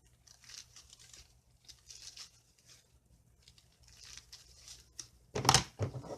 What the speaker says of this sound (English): Those scissors just aren't working and they're new.